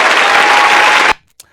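A recorded crowd applause effect roars steadily for about a second, then cuts off abruptly into near silence with a short faint blip after it.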